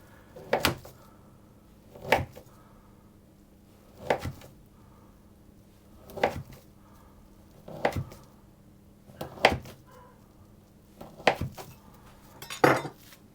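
Cut chocolate biscuit slices set down one by one onto a baking tray, giving eight light clinking taps at a steady, unhurried pace, fairly close, with no talk.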